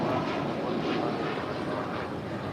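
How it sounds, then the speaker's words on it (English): An American Airlines Boeing 787-8 Dreamliner departing LAX, a broad steady jet roar heard from a distance with a slow swell, with no talk over it. "This is American Airlines Flight 27 Heavy departing to Tokyo Haneda on the 787-8 Dreamliner"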